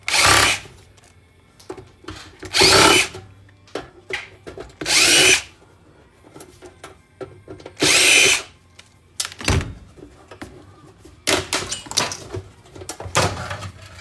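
A power drill whirs in repeated short bursts, loud and close, as screws are backed out of a desktop PC case, with quiet clicks and handling noises between the runs.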